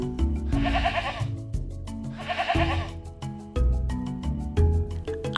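A goat bleats twice in clear, wavering calls over a bouncy musical backing, with no talking.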